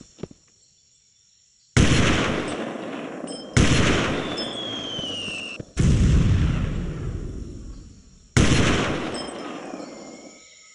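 Artillery shells landing in the PC game Delta Force Land Warrior from 2000, four loud, heavy explosions spaced about two seconds apart, each with a long rumbling decay, after a quiet moment with a faint click.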